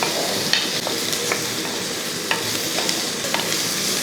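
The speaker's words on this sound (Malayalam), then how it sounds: "അപ്പം മുരിങ്ങയ്ക്കയുടെ ഇതിൻ്റെ അകത്ത് കിടന്ന് നമുക്കൊന്ന് ചെറുതായിട്ടൊന്ന് വഴറ്റിയെടുക്കാം" Drumstick pieces sautéed and stirred in a hot pan while making a Kerala fish curry: a steady close sizzle with occasional light scrapes and taps of a spoon, no voices.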